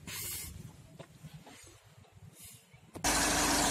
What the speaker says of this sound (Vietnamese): máy dầu nổ rất chi là tròn tiếng